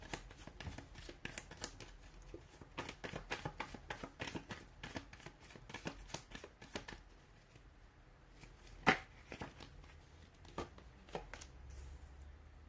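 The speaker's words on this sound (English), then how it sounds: "give the cards a shuffle" A deck of cards is shuffled in repeated quick riffling bursts, crisp flutters and taps close to the microphone, with a few slaps and pauses between passes and no voices.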